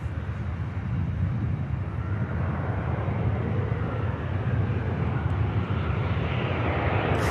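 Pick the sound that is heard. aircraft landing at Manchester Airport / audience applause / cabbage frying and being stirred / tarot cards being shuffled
aircraft landing at Manchester Airport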